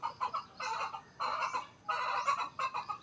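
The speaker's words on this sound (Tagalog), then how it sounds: "Ito, may manok tayo." Native Tagalog chickens on a small farm clucking in short, repeated bursts, close and fairly loud, with brief pauses between the calls.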